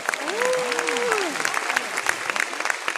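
Audience applause fills the hall at a film premiere and opening ceremony, steady dense clapping throughout with a voice speaking over it at the start.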